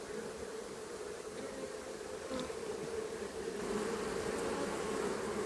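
Honeybees buzz steadily around flowers planted right beside their hives, a continuous soft drone that swells slightly toward the end, with no voices.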